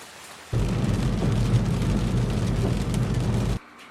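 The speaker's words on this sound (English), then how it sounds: "it's raining outside now" Steady rain falls outside in summer, a dense, close hiss that starts abruptly, holds evenly for about three seconds, then cuts off.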